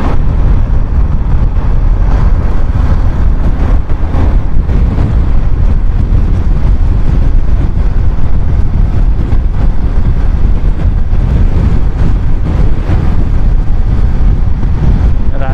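A Hero Super Splendor motorbike riding along a road at speed, heard as a loud, unbroken roar of wind buffeting the microphone that masks the engine, steady throughout with no talk.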